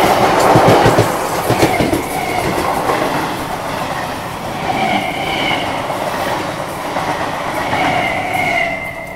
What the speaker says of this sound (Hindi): ट्रैक साउंड आ रहा है, मतलब गाड़ी आ रही है।